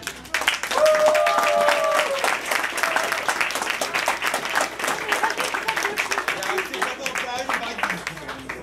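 Loud applause from a crowd in a saloon at a charity auction event, dense clapping throughout with voices and a brief tonal sound mixed in near the start.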